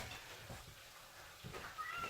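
A house cat meows a few times in a home kitchen, with faint cooking and bowl sounds around it and no one talking.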